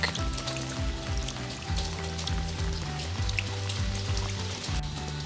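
Rain falls on a small burning Swedish fire torch log, giving a continuous crackle and patter of drops with faint sizzling, steady and close, and no voices.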